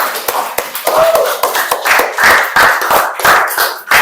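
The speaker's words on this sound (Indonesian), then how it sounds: "Kita berikan applause dulu untuk kita semua" A classroom of students claps together after group presentations in a social studies lesson, a dense, steady patter of many hands lasting throughout, close and fairly loud.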